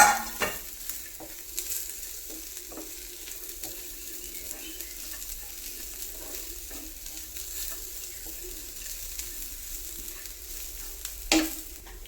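Grated coconut roasting in a pan crackles with a soft continuous sizzle, while a spatula scrapes and stirs in occasional clear knocks, the first and loudest near the start and another near the end.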